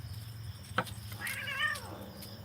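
Cats meow close by, one short cry followed by a longer, wavering yowl that bends in pitch, over a low steady background hum with no talk.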